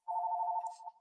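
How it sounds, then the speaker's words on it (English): A telephone rings once during a sermon, a short clear electronic tone lasting under a second, moderately loud and alone, with no talk over it. "Please excuse that phone ring."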